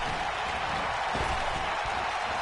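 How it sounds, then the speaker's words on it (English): A wrestling crowd cheering and applauding during a Super J Cup match featuring Pete Dunne, a dense, steady roar of clapping and voices filling the whole stretch. "by the sound of this crowd, I think they're getting what they wanted"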